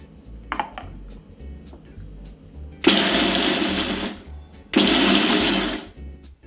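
A mixer grinder with a small jar grinds peanuts coarsely in two loud, harsh bursts of whirring, each lasting over a second, separated by a pause with faint clatter and handling noise.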